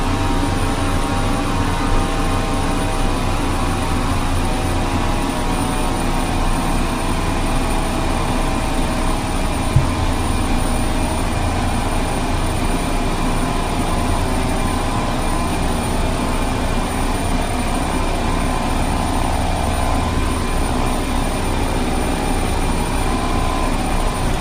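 Beechcraft 1900D twin-turboprop engines in Flight Simulator 2002, a steady, loud, continuous drone with a faint high whine held throughout, no voices.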